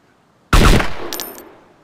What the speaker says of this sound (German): Schüsse, AK?